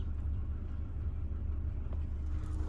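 Low, steady rumble of a 2016 Ford Fiesta Mk7 engine idling nearby, soft and continuous with nothing else standing out.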